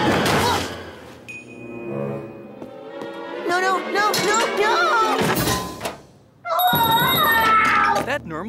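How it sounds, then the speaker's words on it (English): Cartoon bell ringing amid a busy animated cat-show soundtrack, with bright high ringing tones under lively music, voices and thumps, loud throughout with a short drop before the ringing returns. "Nermal's bell ringing?"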